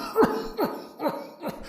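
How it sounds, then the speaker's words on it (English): A man coughs four times in a slow, spaced rhythm, each cough a short harsh burst close by, during a reading of Edgar Allan Poe's story "The Cask of Amontillado", with no speech. "How long have you had that cough?"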